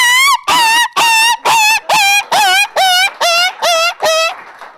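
A voice imitates a dog crying after being run over by a vehicle: ten rapid, evenly spaced high-pitched yelps, loud and close, trailing off at the end.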